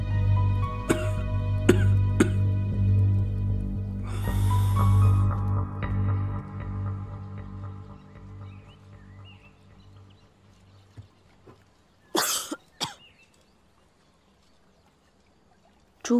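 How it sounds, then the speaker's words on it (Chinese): Two sharp coughs from someone whose cough has not fully healed, heard close after a quiet stretch with a low background hum, followed by silence. "咳嗽还没完全好"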